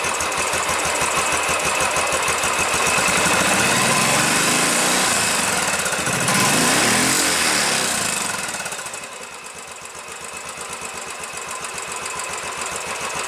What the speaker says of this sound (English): up and see how it does with the engine running